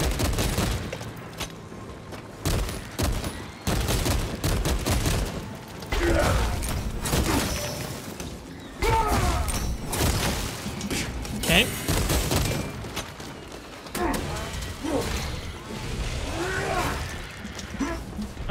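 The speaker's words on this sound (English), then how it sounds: "Stop shooting at me." Enemy gunfire rattles through a Warhammer 40K Space Marine 2 battle in repeated loud bursts and cracks, mixed with clanking mechanical game effects, while a player talks over the action.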